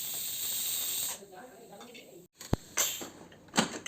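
A pressure cooker of cooked chickpeas lets off a steady, loud hiss of steam for about a second. Quieter hissing and a few sharp bursts of venting follow.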